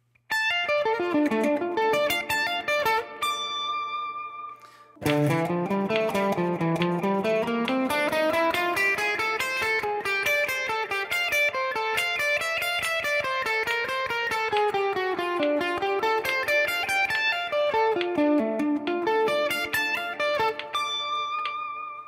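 Clean electric guitar picked rapidly, a fast run of distinct notes climbing and falling, played alone and steady throughout.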